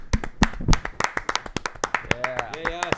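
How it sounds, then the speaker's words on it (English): A few people on a couch in a podcast setting clap their hands in loose, uneven bursts, sharp close claps mixed with laughter and cheering voices. "Let's do a clapping podcast."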